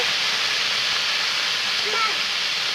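Potatoes fry in a pan for a vegetarian aloo posto, giving a loud, steady hiss of sizzling oil that runs unbroken from start to finish.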